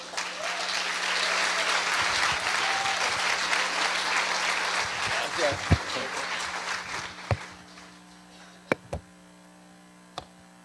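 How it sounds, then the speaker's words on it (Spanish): A congregation applauding in church to welcome a guest couple, a loud sustained burst of many hands clapping that gradually thins out, leaving a few scattered claps and knocks over a low electrical hum. "si esos aplausos son para el Señor, pues tendrían que ser más fuertes"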